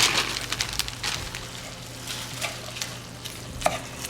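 About a cup of diced onion frying in a pan, with a loud sizzle that settles into a steady crackle, broken by a few stirring clicks and scrapes, close and unaccompanied by speech.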